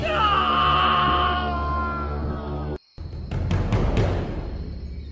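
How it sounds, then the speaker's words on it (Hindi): A loud, drawn-out scream from an animated horror story, rising and wavering before cutting off abruptly, followed by a burst of crashing, clattering effects. "ये देखकर राजू की चीख निकल गई"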